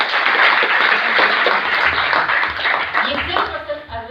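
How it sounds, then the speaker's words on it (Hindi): Applause from a crowd at a lucky draw event in Varanasi, dense clapping that runs steadily throughout and thins toward the end, with voices mixed in. "तो फाइनली ये जोरदार तालियां अरविंद सर के लिए,"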